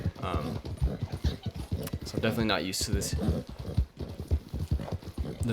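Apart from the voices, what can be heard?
heavy Shire horse hooves clip-clopping, Red Dead Redemption 2 video game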